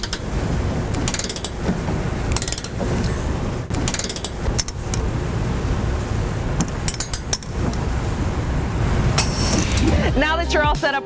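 Socket wrench ratcheting with a swivel-head socket and extension while fitting a trailer hitch under a 2014 Chevy Cruze: dense, rapid metallic clicking bursts that keep running with brief pauses, ending in a short whine near the end.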